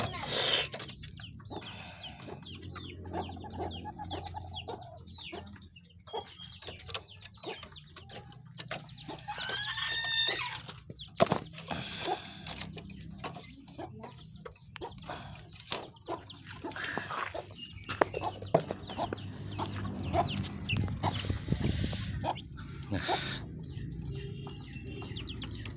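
Captive green junglefowl give scattered soft clucks and short calls at moderate distance. Someone talks intermittently over a quiet outdoor background.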